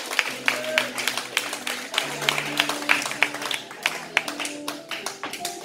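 At a church service, a congregation claps to acclaim Jesus, sharp, distinct hand claps in a loose rhythm across the whole stretch, with voices and sustained tones running underneath.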